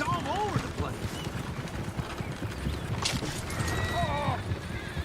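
Horses in the Red Dead Redemption 2 video game neigh shrilly several times over a steady clatter of hooves and wagon noise, loud and close, with someone talking over the commotion.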